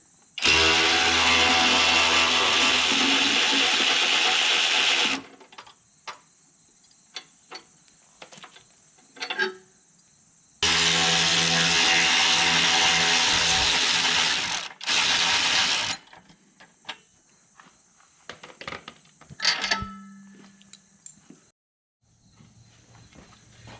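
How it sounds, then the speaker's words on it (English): A ratchet with a T40 Torx bit and 13mm socket runs on bolts during a rear bumper install on a Can-Am Outlander 450/570 ATV. There are two long, loud bursts of rapid clicking, with scattered ticks and clanks in between. "So again, using our T40 Torx bit and a 13mm."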